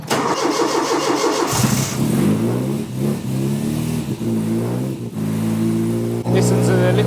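A Ford Fiesta Mk1 XR2 with a crossflow engine cranks and fires up, then revs in several loud, close blips that rise and settle back toward a rough idle.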